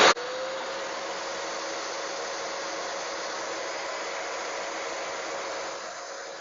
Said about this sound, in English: You could really see the peak in startup of the vacuum cleaner